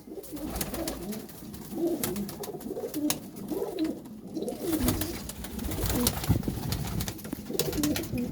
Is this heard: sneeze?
no